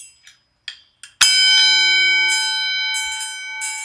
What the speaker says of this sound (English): This was the original bell that they used to start the stock market with, as well as boxing matches.